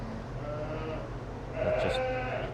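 Sheep and lambs bleating on a farm during lambing season, a few short bleats over steady barn noise, with a louder nearby bleat in the second half.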